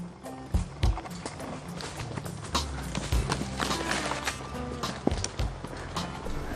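Horses walk along trails in the village of Barrington Hills, giving a loose, irregular string of hoof clops over a steady rustling background, moderately close, with no talk.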